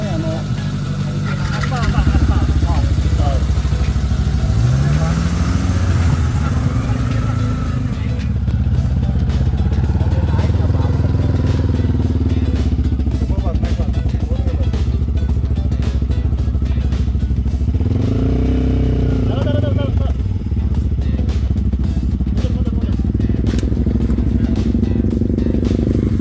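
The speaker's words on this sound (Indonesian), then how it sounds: "Ternyata narik motor di tanjakan" A motorcycle engine strains and revs while being ridden up a rocky uphill track, with the pitch rising and falling as it labours. The engine stays loud and close throughout, and people talk over it.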